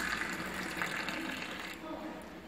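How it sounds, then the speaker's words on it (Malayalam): Spiced masala tea being poured into a glass, a steady liquid splash that runs close and fairly loud for about two seconds before tapering off, with faint background noise. "ഇത് നമുക്ക് ഗ്ലാസ്സിലേക്ക് ഒഴിക്കാം"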